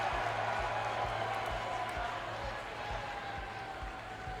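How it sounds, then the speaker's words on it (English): Arena crowd in the WWE 2K20 wrestling video game cheering and roaring after a one-on-one match win, a steady loud wash of noise with occasional thumps underneath, no pauses throughout. "Celebrating here with the crowd in LA."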